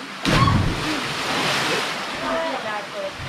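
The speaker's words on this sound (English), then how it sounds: "Climbing up the waterfall." Broad rushing water from a waterfall in the Dominican Republic sets in suddenly and roars steadily, with excited voices talking and calling out over it.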